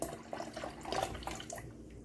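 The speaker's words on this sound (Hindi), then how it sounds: "हम थोड़ा आधा लीटर दूध डालेंगे" Half a litre of milk pours into a pan for badam ice cream, a close, gurgling liquid stream splashing steadily for about two seconds before tapering off.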